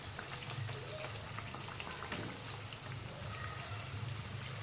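Coriander fritters (kothimbir vadi) sizzling in hot oil over a low flame, a steady dense crackle and bubbling that holds evenly throughout with no talking.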